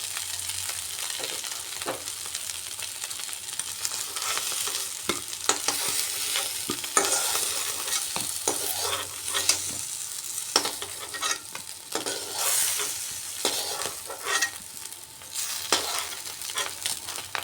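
Potato pieces fry in a pan and are stirred repeatedly, with a steady loud sizzle and frequent scraping of a spatula against the pan.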